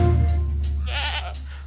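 A goat bleats in a children's song, a single wavering cry rising near the middle over a steady sustained musical backing.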